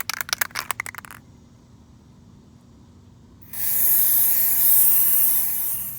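A burst of rapid clicks gives way to a quiet pause, then a loud, sustained aerosol spray of chain cleaner onto a motorcycle chain hisses for a couple of seconds.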